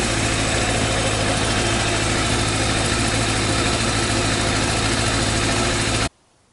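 A 1999 Yamaha Fazer FZS 600 motorcycle idles steadily after cleaning and adjustment of its carburetors. The engine rumble is loud and even, with no talk, and it stops abruptly just before the end.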